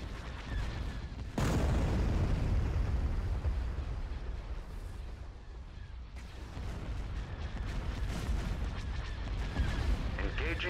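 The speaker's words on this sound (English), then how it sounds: "All batteries commence firing." Cannon batteries fire during a space battle in the video game Thrawn's Revenge, a loud rumbling barrage that bursts in suddenly and rolls on continuously with booming blasts, while voices talk underneath.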